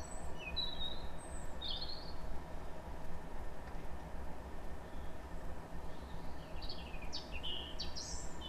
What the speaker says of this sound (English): some very nice robins singing